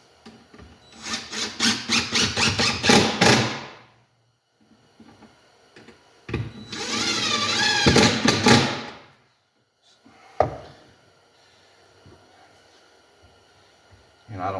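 A power driver sends screws into a wooden Langstroth hive box in two loud whirring, grinding bursts, each several seconds long, separated by pauses, with a sharp knock after them.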